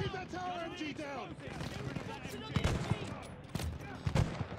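Tower machine gun fire in Call of Duty Vanguard's campaign, heard as sharp bursts of shots in the second half, mixed with loud game effects and other noise, while people talk over it.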